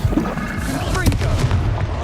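Spell blasts go off in the Hogwarts Legacy video game as the Confringo explosion spell is cast, booming bursts over a busy game soundscape, with a voice calling out spells.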